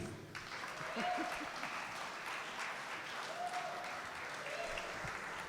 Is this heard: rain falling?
no